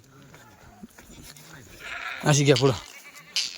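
Several wavering bleats from goats rise over people talking nearby, the loudest cluster midway through.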